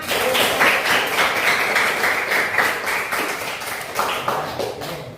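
Students in a classroom clap their hands together during a religious studies lesson. The claps are close and fairly loud, coming in a quick rhythmic burst that lasts several seconds.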